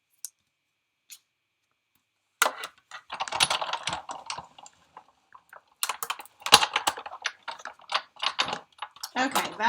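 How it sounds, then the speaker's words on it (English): A die cutting machine running paper and a die through its rollers during card making, giving a close, uneven run of clicking, crunching mechanical noise after a quiet start. "that's all the die cutting we're going to do"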